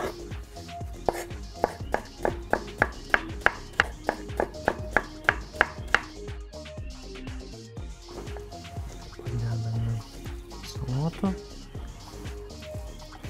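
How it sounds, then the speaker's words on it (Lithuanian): A knife chops rhythmically on a cutting board, cutting a cucumber lengthwise into quarters, a quick series of sharp, close taps that slows and then scatters into lighter cuts, with background kitchen noise. "Pjaustome išilgai 4 dalis."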